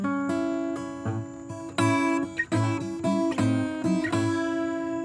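Guitar picks out a song over an open A drone, with clear, ringing plucked notes and short phrases played up close with no talking.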